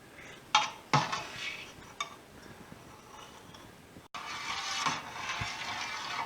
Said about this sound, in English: So we start off stirring very gently at first.